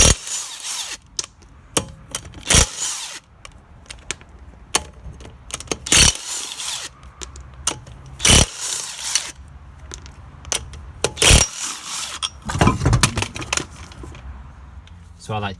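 A power tool undoes the wheel bolts on a Volkswagen Polo 9N, using a 16mm socket. It sounds as several loud, short rattling bursts with pauses between them, over a background of clanking workshop noise.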